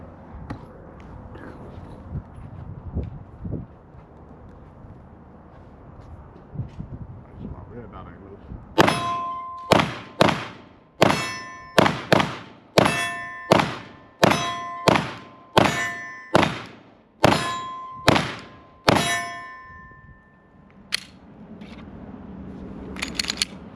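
A Glock 19X pistol fitted with a Trigger Shark trigger upgrade fires a steady string of about a dozen shots, each with a bright metallic ring. Muffled talk and background noise come before the shooting.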